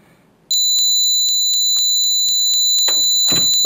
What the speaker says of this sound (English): when this alarm goes off, you know that you've got about 50 seconds to disarm the system